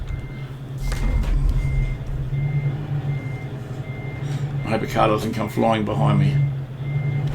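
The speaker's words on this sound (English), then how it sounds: "I'm just going to reverse it up, give myself a bit more tuning space." Repeated truck reversing beeps from a reversing lorry in Euro Truck Simulator 2 pulse steadily over a low engine drone, with someone talking over them for much of the time.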